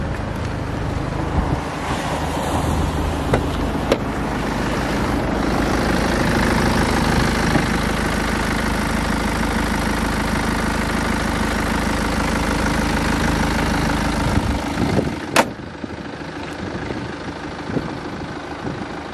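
A used BMW 5 Series idles with its bonnet open at a car dealership, giving a steady, close rumbling drone with windy noise throughout and a sharp click near the end.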